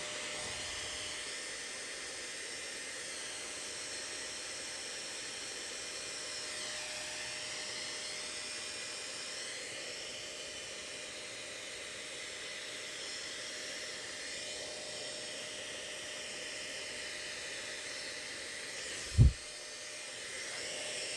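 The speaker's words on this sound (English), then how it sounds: "Hair dryer's going on." A hair dryer whirs continuously with a steady high-pitched airy hiss and slight wavering, and a brief thump near the end.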